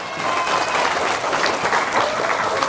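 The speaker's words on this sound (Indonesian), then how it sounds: "Tepuk tangan buat Anda dong ya." An audience bursts into dense, continuous applause, a close and full crowd clapping steadily for a few seconds without pause.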